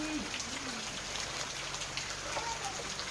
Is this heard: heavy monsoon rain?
yes